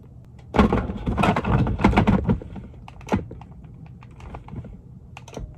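A quick cluster of sharp plastic clicks up close, then a few sparser single clicks as a small switch is pressed down repeatedly.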